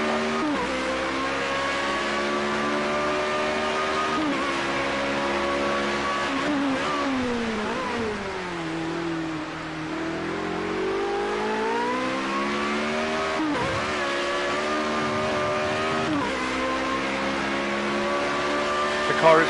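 A Formula Renault racing car in Project Cars 2 at Hockenheim revs hard and steadily close up, its engine pitch dipping low around the middle and climbing back through gear changes, with a voice speaking over it.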